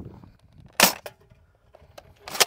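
Foam darts from a Worker blaster strike a metal target, giving two sharp metallic dings about a second and a half apart, with a faint launch click between them and quiet surroundings.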